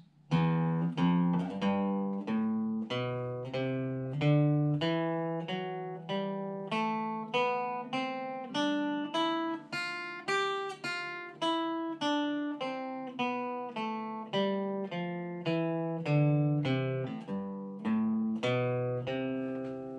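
A picked single-note guitar exercise from an 1892 guitar tutor book plays alone, about two crisp attacks per second in a steady, even rhythm, each note ringing briefly before the next.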